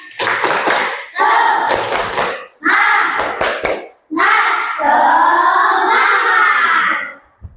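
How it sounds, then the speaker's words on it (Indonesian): Children in a classroom perform the tepuk semangat clapping chant, loud rhythmic claps in quick clusters alternating with voices chanting together, punctuated by short pauses. "Coba tepuk semangat."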